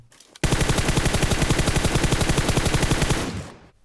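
Sustained automatic gunfire from PUBG Mobile sprays a vehicle in one loud, rapid, unbroken burst of evenly spaced shots lasting about three seconds, with no talking.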